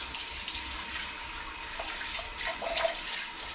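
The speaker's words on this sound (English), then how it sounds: "Wash my measuring cup." Kitchen tap water runs steadily into a sink while a measuring cup is washed, a continuous close hiss with faint clinks and splashes of the cup.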